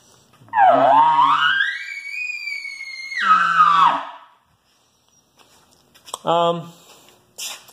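A voice imitates a large bull elk bugle: a raspy rising squeal that holds high and drops, followed by short grunting sounds after a pause.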